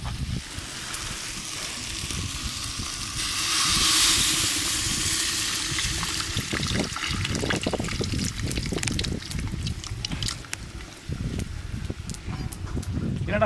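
Tamarind water is poured into a clay pot on the stove, a soft splashing pour rising and settling into trickles and faint sizzling, while a person talks over it.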